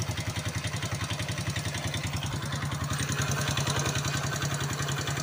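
A motorcycle engine idles steadily right after starting, with an even, rapid low putter and some mechanical clatter, close and continuous for the whole stretch with no talk.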